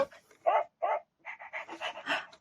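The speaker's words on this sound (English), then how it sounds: "That was a dog. Did you hear that, Annie?" A toy plays a recorded dog barking sound, several short yapping barks in an uneven burst, close and clear in a quiet room.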